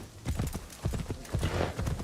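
A horse's hooves clip-clop in the video game Assassin's Creed Shadows, a steady rhythmic trot of close, moderately loud hoofbeats that repeat in quick pairs throughout, with no voices over them.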